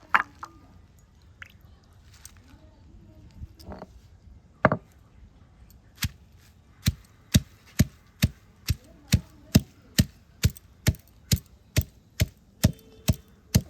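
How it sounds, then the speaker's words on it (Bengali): Leaves being finely chopped by hand for a herbal hair-colour paste: a few scattered knocks, then a steady, evenly spaced run of about a dozen crisp, close chops. "এইভাবে একে একে পাতাগুলো কুচে নেব"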